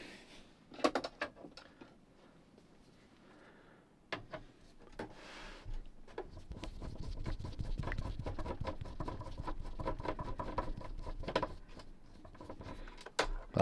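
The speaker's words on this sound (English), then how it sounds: "I was actually screwing it in there, not unscrewing it, would you believe?" A small screw is driven into the cassette mechanism of a Hitachi TRK-8000 boombox, giving close, irregular clicks, taps and scraping rattles. Denser grinding bursts in the second half, with no speech.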